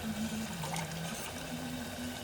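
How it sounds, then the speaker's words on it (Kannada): Water poured into a cooking pot while making vegetable pulao biryani, a steady continuous pour with a faint hum underneath, heard close and alone without talk. "ಇದ್ರಾಗ ಸ್ವಲ್ಪ ನೀರು ಹಾಕಿ ಮತ್ತು ಸ್ವಲ್ಪ ನೀರು ಹಾಕ್ತೀನಿ."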